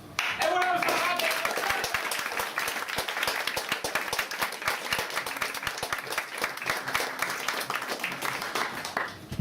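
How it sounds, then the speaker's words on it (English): Dense applause from a crowd, steady and sustained throughout, with a few voices mixed in near the start. "Everyone else start clapping."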